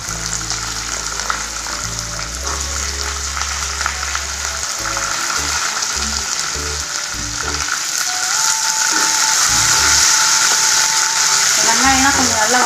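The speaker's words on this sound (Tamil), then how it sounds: "வெங்காயம்லாம் கொஞ்சம் நல்லா வதங்கட்டுங்க" Onion and garlic sizzle in a pan with dried red chillies for a capsicum chutney, a loud, steady close-up hiss that swells toward the end, with light background music underneath.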